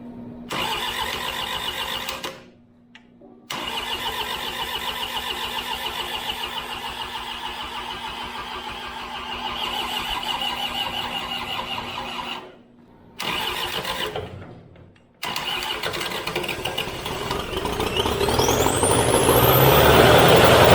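A skid steer engine cranks over several times, pausing between attempts, then catches and runs, its loud mechanical drone building toward the end.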